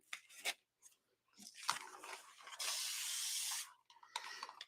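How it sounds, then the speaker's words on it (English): Short bursts of a spray mister wetting white acrylic paint on an artist's palette, hissing close by in several puffs with one longer steady spray in the middle, alone without talk. "I did spray mist my white paint."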